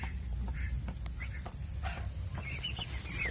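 Young turkeys in a pen give soft chirps, peeps and clucks, scattered calls close by over a low background rumble.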